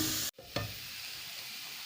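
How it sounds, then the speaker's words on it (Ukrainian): Carrots stewing in a frying pan are stirred once with a quick scrape, then a soft steady sizzle continues alone at low volume. "Потрібно перемішати і нехай ще дотушковується."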